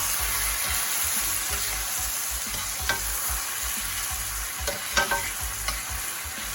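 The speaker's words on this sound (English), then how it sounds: "I'm giving this one more stir." Salmon with mango, ginger and thyme stirred in a hot pan, a steady close sizzle with the scrape and clack of a utensil against the pan several times near the end, no talking.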